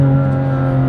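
BMW M2 CS accelerating through a tight, technical turn in second gear, a loud steady engine drone with strong low harmonics held throughout, no voices.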